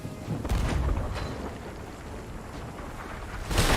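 Ship cannons fire in the pirate game Sea of Thieves, heavy booms rumbling under wind and water noise, with a louder blast at the end.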